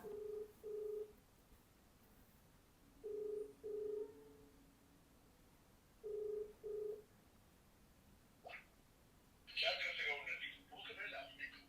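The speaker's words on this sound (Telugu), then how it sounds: "ఇప్పుడు రింగ్ అవుతుంది" A phone call's ringback tone repeats as evenly spaced double-beep bursts, fairly quiet and clear, followed by a person speaking.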